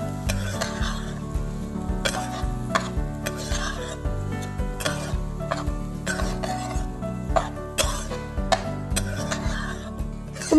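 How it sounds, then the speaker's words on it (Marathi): Vegetables with red chilli are stirred in a pan for aviyal, a spoon scraping and clattering against the metal in repeated strokes over a low steady sizzle, close up with no talking. "चवीनुसार लाल मिरच्या यांना भाज्यांसोबत परतवून घ्यायचे आहे"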